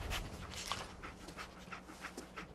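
Dogmeat, the dog companion in the video game Fallout 4, pants quickly and steadily up close, a rhythmic series of breathy huffs with no talking.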